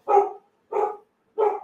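A dog named Django barks three times in slow, evenly spaced bursts, each bark full and fairly close, with silence between them and no talking.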